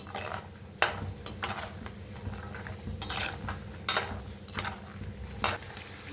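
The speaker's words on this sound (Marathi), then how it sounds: "आता घेऊया बदाम भाजून, तेलात तळून घेऊया।" Almonds frying in oil in a pan for chivda, with a soft continuous sizzle beneath repeated scraping and clinking of a spoon stirring against the metal, close up.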